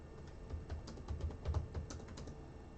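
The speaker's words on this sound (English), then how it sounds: "I'm just typing in what you're basically something that reminds me who you are" Fingers typing on a computer keyboard in a quiet room, a soft, irregular patter of keystrokes close by, with no talking.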